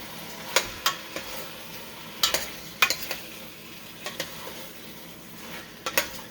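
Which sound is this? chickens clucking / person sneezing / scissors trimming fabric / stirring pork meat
stirring pork meat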